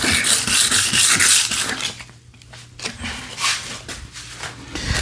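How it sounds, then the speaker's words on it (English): Hand sanding the wooden face of a window during a barn window rehab, close scratchy back-and-forth rubbing strokes that are loud at first, then lighter and more broken, with no talk. "I'm just going to do some quick sanding of this face."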